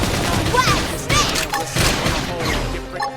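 A flame grenade attack in Xenoblade Chronicles X: a dense, crackling burst of explosive blasts and crashes lasting a few seconds, layered with game effects and a voice calling out.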